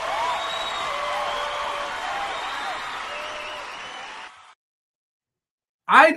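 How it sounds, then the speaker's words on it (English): Canned crowd applause with cheering swells for about four seconds, then cuts off into silence before a brief burst of voice. "I think that right there deserves a round of applause"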